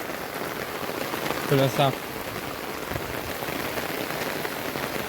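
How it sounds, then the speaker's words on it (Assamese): Heavy rain falls steadily around ponds in Dibrugarh, a dense, even hiss of drops striking surfaces, briefly interrupted by a short spoken word. "আমাৰ এফালে বৰষুণ দি কিমান পানী হৈ গৈছে পুখুৰীবিলাকত।"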